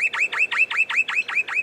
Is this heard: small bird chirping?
yes